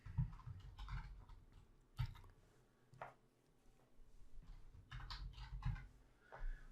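Someone types a name on a computer keyboard in quiet, close taps that arrive in short uneven bursts with brief pauses between them, soft under low room noise.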